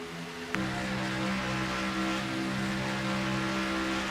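NASCAR race cars in an X Series eSeries racing game at Talladega Superspeedway, a continuous droning engine hum with layered steady tones and a brief sharp knock early on, no voices.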